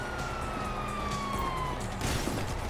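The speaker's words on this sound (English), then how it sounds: "You hear that? Sirens!" A police siren wails in the GTA V video game, a steady sweeping tone held across the clip amid busy ambient game noise, moderately loud.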